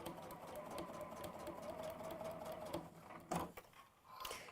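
A sewing machine stitches a quarter-inch seam on a fabric envelope pouch, running in a faint, steady whir with brief pauses and a few clicks toward the end.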